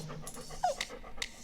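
A dog in the Stardew Valley video game gives a few quick, soft pants and breathy sounds, with one brief sharper squeak near the middle, fairly quiet and with no voices over it.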